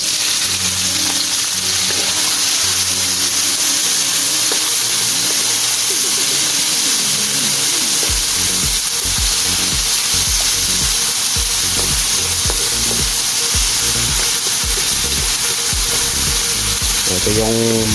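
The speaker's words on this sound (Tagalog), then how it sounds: "so gisang-gisa na siya" Tomatoes sauté in a pan for a guisado made with Sprite soda, giving a loud, steady, close sizzle and hiss throughout, with occasional stirring and a voice faintly underneath.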